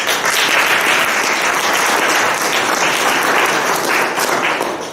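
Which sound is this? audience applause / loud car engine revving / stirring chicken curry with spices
audience applause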